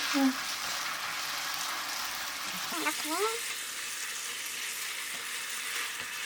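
Japchae noodles stir-frying in a hot pan after a few spoonfuls of soy sauce go in, a steady soft sizzle running throughout with brief scraping and stirring noises midway.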